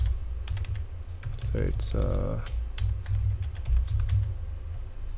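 Rapid keystrokes on a computer keyboard as a Wi-Fi password is entered during a MikroTik router setup, a steady close clatter running under a man's speech.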